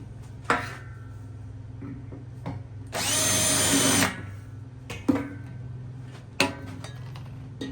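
A power drill bores holes into a workbench for mounting a bike repair stand, one sustained loud whine of about a second standing out between sharper clicks and knocks from the tool and clamp.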